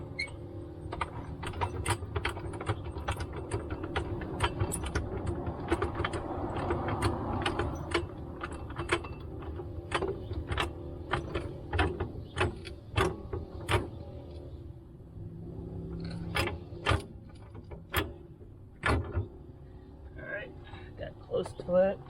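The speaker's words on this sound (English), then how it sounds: "So let me jack this up really quick." A jack is pumped to lift a 10th-generation Honda Civic FK7 hatchback for a BC Racing coilover install, giving repeated ratcheting clicks and mechanical clanks at close range, with sharp taps scattered through the latter half.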